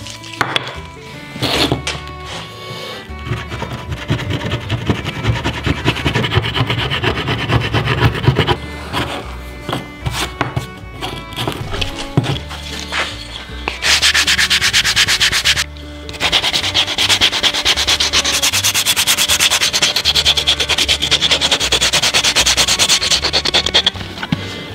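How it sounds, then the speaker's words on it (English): Wood is hand-sanded after a paper pattern is removed, producing close, steady rasping strokes that run continuously with brief pauses and shifts in pace. "do a little bit of sanding"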